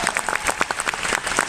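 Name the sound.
audience applauding the cosplay prop makers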